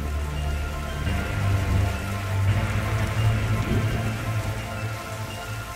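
Rain from a purple storm in the Darkside Detective video game patters steadily on surfaces, dense and fairly loud, with a low swelling rumble under it and no speech.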